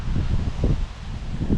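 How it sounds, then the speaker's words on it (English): Wind buffets across an open hay field in a steady low roar of gusts and rustling, close and continuous with no voices. "Sorry it's so windy"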